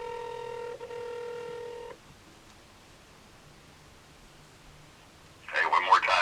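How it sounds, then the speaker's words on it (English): A phone dials out to return a cut-off call, with bright, steady keypad and line tones for about two seconds. A quiet pause follows, and then a burst of rustling handling noise. "I'm calling him back on my brother's phone."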